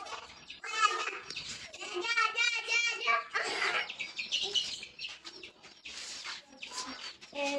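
Chicken clucks and rooster-like calls come in bursts, close and clear, with a voice mixed in among them.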